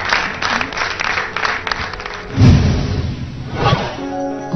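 Audience applause for a singer on a Vaisakhi special stage programme, scattered clapping that thins out, with a dull thump midway and faint music creeping in at the end.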